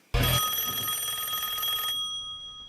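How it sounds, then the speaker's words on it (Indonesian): A telephone rings with a bright, sustained electronic trill, loud and close, starting abruptly and cutting off after about two seconds, with a faint tail fading into near silence. "Setelah sampai di rumah, Dina mendapatkan telepon dari si bermain"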